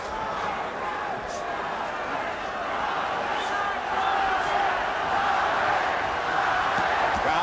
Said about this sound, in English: Crowd chanting Chavez, Chavez.